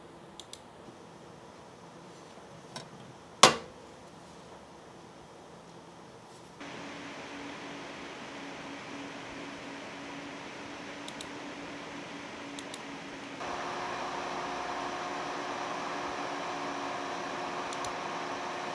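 PC case fans run under load, heard from 20 centimeters away on the graphics card side of the case: a steady airy whoosh that grows louder in two steps as fan speed rises, with a few faint clicks and one sharp knock early on.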